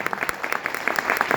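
A brief burst of dense clapping from an audience at a spiritual discourse, many hands together in a quick, loud patter.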